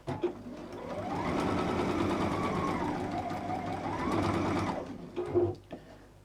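Domestic sewing machine stitching nested quilt seams, running in one steady continuous whir for about four seconds, then stopping with a few small handling knocks.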